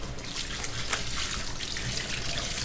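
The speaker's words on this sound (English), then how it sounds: "Now I'm gonna rinse it out." Tap water runs steadily over a freshly caught red-mouth grouper as it is rinsed in a sink, a continuous close splashing and trickling with small shifting splashes throughout.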